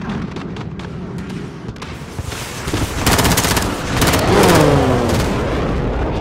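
Gunfire in a video game, rapid bursts of automatic fire growing louder and denser midway through, with a rising whine and voices talking over it.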